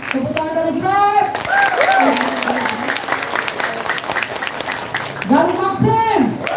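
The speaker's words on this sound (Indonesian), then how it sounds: "Tepuk tangan dari Grab." Crowd applause from ride-hailing drivers at a communal fast-breaking gathering, scattered clapping and cheering heard under voices and chatter, with loud calls near the start and end.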